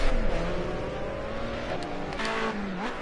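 Group A touring race cars leave the pits onto the Sonoma circuit, loud engines revving and climbing through gears, with a brief tire squeal and a close, continuous roar.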